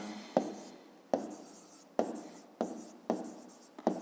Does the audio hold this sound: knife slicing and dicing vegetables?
no